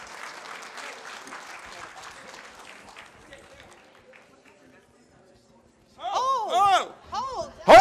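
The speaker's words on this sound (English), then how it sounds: "Mary, big round of applause for Mary." A crowd at a fashion show claps in a fading round of applause that thins out and dies away, followed by someone speaking loudly into a microphone.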